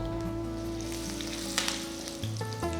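Mustard seeds spluttering in hot oil for an Andhra-style ginger chutney tempering, with a close, continuous sizzle and a few sharp pops, over a sustained humming tone.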